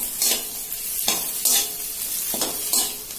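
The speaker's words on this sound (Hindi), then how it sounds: "फिर से एक बार मैं अच्छे से इसको मिक्स कर लूंगी।" Samosa filling with ginger mixed in a pan, with rhythmic spatula scrapes every half second or so over a light sizzle, close and steady.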